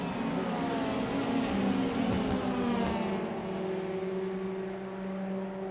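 Race cars scream past at Monza during a 25-minute race, several high-pitched engines revving and shifting at once, loud and continuous with pitch sweeping as they pass.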